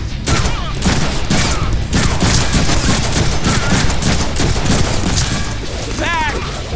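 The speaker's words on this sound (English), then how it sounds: "Who's he shooting at?" Dense, continuous gunfire from the PC Deadpool video game fights, rapid overlapping shots and bursts filling the whole stretch at close, loud level, with a brief whistling sweep near the end.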